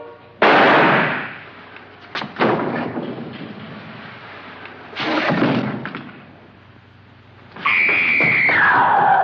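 A gunshot fired in a cellar in the horror film House on Haunted Hill: a sharp loud burst, followed by further thuds and bangs, then a sustained high tone near the end.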